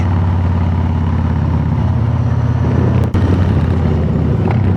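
A Harley-Davidson Road King Special with a Freedom aftermarket exhaust idles with a deep, throaty rumble, steady and close, with a brief dip in the middle before it resumes.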